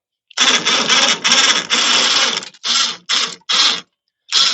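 A crane's small pulley mechanism working while hauling ash, giving a long mechanical whirring run that breaks into several shorter bursts with brief gaps, loud and close, with no talking.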